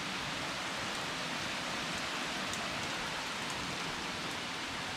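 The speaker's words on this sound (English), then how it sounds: "you can watch and listen to the rain for a bit" Heavy rain pours outside a garage in a dense, constant hiss of drops striking surfaces, steady throughout and close by.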